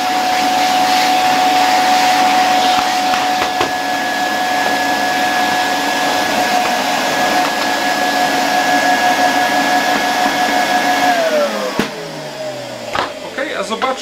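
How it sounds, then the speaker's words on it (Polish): Zelmer vacuum cleaner fitted with accessories runs with a loud, steady motor whine and airy roar, then winds down in pitch near the end, followed by a few clicks and handling noises. "Możemy nawet na chwileczkę ten odkurzacz z tymi akcesoriami włączyć."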